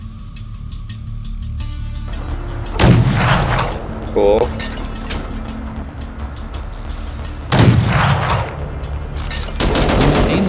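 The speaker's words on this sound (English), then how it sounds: "The driver orders you to practice your aim with the tank cannon and machine gun." Tank cannon firing in the video game Fallout: The Frontier, three loud heavy booms spaced a few seconds apart over a low engine drone, with a brief spoken word between shots.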